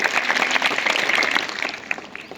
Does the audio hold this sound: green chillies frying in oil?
no